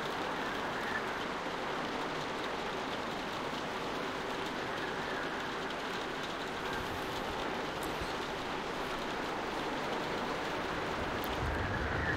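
Steady rain pours outdoors by a barn in the video game The Walking Dead, a constant dense hiss that fills the scene without a break and with no talking.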